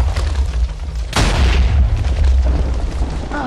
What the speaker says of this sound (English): Bat Bomb!